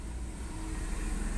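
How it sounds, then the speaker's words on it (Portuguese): A cold Renault engine, in a Sandero or Clio, cranks and fires up, giving a steady low rumble that stays close and even for a brief moment with no talking. "Vou dar uma partidinha, ó."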